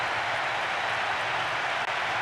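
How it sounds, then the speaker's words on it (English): Crowd applause and cheering from fans in a PES football video game stadium, a steady dense wash of clapping and roar holding level throughout with no talk. "Even some of the opposing fans are clapping that."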